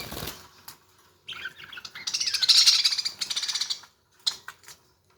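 Busy, bright chirping and twittering from semi-adult budgies kept for colony breeding, bursting in and out with short pauses and a sharp clatter near the start.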